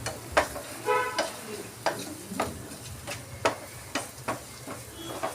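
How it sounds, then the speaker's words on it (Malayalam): Onions sauté with salt in a pan for a tomato chutney, a continuous sizzle broken by regular scraping stirs of a spoon, close and fairly loud, with no one talking. "സവാള പെട്ടെന്നൊന്ന് വഴന്ന് കിട്ടാൻ വേണ്ടി നമുക്ക് ഉപ്പിട്ട് കൊടുക്കാം."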